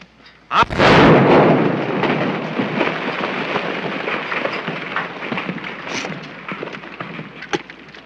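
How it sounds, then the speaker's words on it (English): Gunfire in a 1931 western film, an opening loud boom followed by a long rumbling, crackling echo and a few scattered later cracks, heard alone without voices. "Somebody else shooting?"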